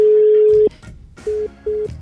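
Phone keypad tones: one long steady beep, then two short beeps after a pause, loud and close, with faint background noise between them.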